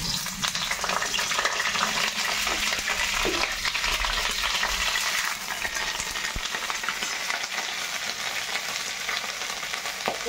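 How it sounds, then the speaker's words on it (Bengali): Cauliflower fries in hot oil in a wok with a loud, continuous sizzle, broken by the scrape and clatter of stirring. "কফিটা ভাজা হচ্ছে।"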